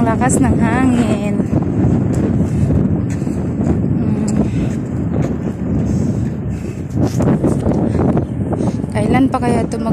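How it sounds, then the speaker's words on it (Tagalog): Strong wind buffets the microphone continuously with heavy low rumble on the way to a market, while people talk over it throughout. "Ang lakas ng hangin."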